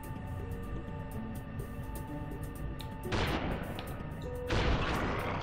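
Weapon fire in Ratchet & Clank 2: Going Commando sounds as two sharp blasts with brief rumbling tails, spaced well apart over a steady hum of game music and ambience.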